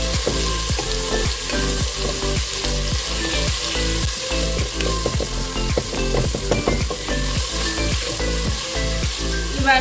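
Carrot, green peas and sweet corn frying in a pan for vegetable biryani: loud, close sizzling with a fast, regular run of stirring scrapes throughout, no talking.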